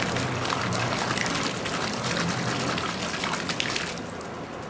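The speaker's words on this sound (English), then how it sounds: "Rinse of the bottle." Water rushes steadily into a plastic bottle of Enviro Tech liquid pool conditioner as it is rinsed out, a close, continuous gushing splash that eases slightly near the end.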